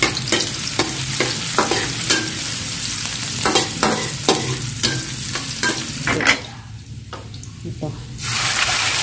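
Garlic sautéing in a pan of oil for pancit, a steady sizzle with repeated scraping stir strokes up close; the frying dips briefly near the end and then swells back.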